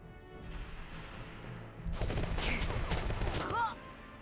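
Machine gun fire in the video game Valkyria Chronicles: after a quieter start, dense rattling bursts break out and run for about two seconds, loud and close, with a faint voice in the background.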